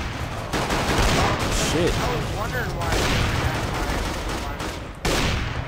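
Dense gunfire in Counter-Strike: Global Offensive, rapid overlapping shots and bursts running almost continuously and loud, with a brief break near the end before the firing resumes, and a player's voice speaking over it.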